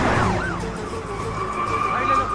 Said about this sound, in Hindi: पुलिस की गाड़ी आ रही है,